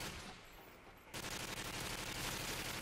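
A video game gun fires in a quick rattling burst that starts abruptly after a quieter moment and keeps going, dense and steady, with no speech.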